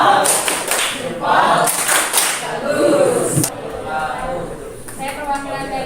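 A short burst of group clapping, fairly close and lively, mixed with voices talking and cheering over it.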